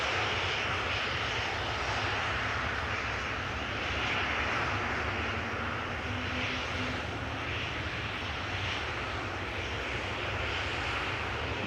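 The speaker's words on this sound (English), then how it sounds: "737-800 from Tanon is coming. We'll be passing in foreground from the right in a few moments." A Boeing 737-800 airliner arriving at Amsterdam Schiphol from Bucharest makes a continuous, fairly loud engine roar with a slow, rolling swell as it passes.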